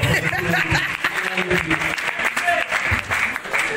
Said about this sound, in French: est-ce qu'on peut applaudir pour ce soir?